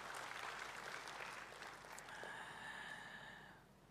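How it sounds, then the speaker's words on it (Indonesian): Congregation applause at a church service, a faint, dense wash of clapping that holds steady, then thins and fades out toward the end. "Kasih tepuk tangan dulu buat Tuhan"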